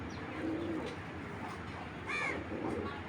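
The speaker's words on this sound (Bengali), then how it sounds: "মাদি কবুতর এটা মাদি কবুতর বুদাপেস্ট" A female Hungarian Budapest pigeon gives soft, low coos in a couple of short bursts, close by against a noisy background.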